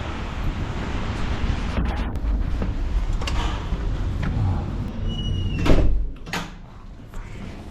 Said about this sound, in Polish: O, ale wieje.